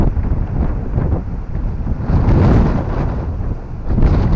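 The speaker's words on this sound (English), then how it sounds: "we got a gust of wind again" Gusts of wind buffet the microphone in an outdoor cemetery in Winfield, Kansas, a loud rumbling roar that swells and eases, strongest in the middle of the clip.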